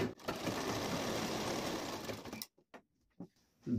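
A sewing machine stitching a pleat on the back piece of a blouse runs in a fast, steady mechanical whir for over two seconds, then stops, leaving a few soft handling clicks and taps.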